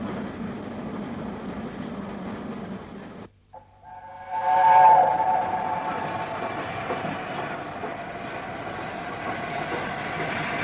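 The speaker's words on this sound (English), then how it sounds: "steam trains are back in action" A steam train on the preserved Great Central Railway rumbles along the line, a steady rolling noise broken by a brief drop before a louder swell returns as it carries on.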